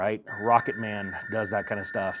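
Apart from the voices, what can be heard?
telephone ringing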